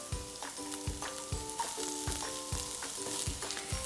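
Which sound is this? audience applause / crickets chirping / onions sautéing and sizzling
onions sautéing and sizzling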